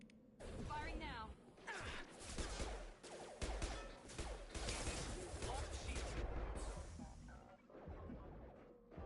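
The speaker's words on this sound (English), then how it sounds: "Firing now." Dense gunfire from a Mass Effect firefight, with repeated sharp shots and bursts layered over swooshing effects and a steady game soundscape. Continuous and loud throughout, with voices speaking at times.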